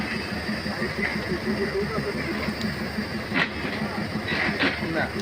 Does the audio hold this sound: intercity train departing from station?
yes